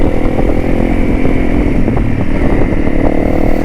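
A motorcycle engine drones loud and steady while riding a backcountry road along the BDR-X route near the Chattahoochee in Georgia's mountains, with constant wind rush and slight rattling over the rough surface.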